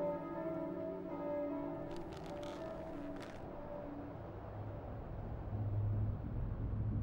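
Church bells from a nearby church ring faintly in the distance, a few soft metallic tones fading out, over low continuous rumble and ambient noise.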